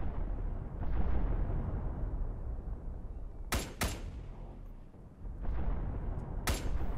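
Artillery rounds explode nearby in Arma 3, two sharp loud blasts with booming tails over a low rumbling battlefield backdrop.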